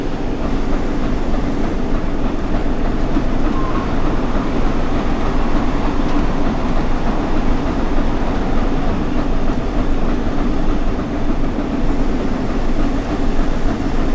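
An HST high-speed train rushes past in a train simulator game, a steady loud roar with faint rail clatter running throughout.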